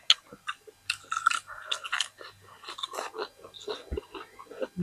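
Close, crisp crunching and chewing of fried food, with irregular bites and wet mouth sounds repeating for a few seconds, no talking.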